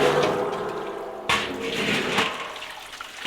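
Water gushes from a pipe into a huge cooking pot being rinsed in a village kitchen, a loud splashing rush with a sudden burst partway through, then churning, sloshing flow that eases slightly toward the end.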